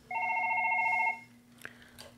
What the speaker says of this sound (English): I'm going to get a call on my phone to begin with.